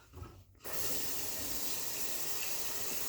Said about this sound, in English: Can you hear over the water?